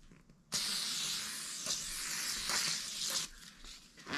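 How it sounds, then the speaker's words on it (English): Brake cleaner sprays onto new brake rotors of a Geo Tracker, a steady pressurized aerosol hiss loud for nearly three seconds after a quiet start, with a few brief surges, then cuts off. "now you want to spray and clean your new rotors where the brake pads are going to touch"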